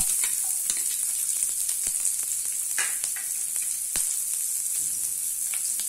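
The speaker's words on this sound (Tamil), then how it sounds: "இப்போ ரெண்டு வத்தல் போட்டுக்கலாம். இப்போ ஆனியன் போட்டுக்கலாம்." Onion and dried red chillies fry in hot oil in a pan, a constant bright hiss and crackle with scattered sharp pops and a few stirring scrapes, close and steady throughout.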